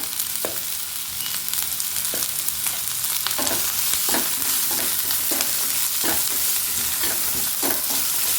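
Onions fry with a loud, constant sizzle in a pan while a spoon stirs them in regular scraping strokes, close and steady throughout with no talking.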